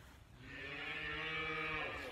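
A cow on a farm, part of a herd, lets out one long, drawn-out moo of well over a second, fairly near and clear against quiet outdoor background.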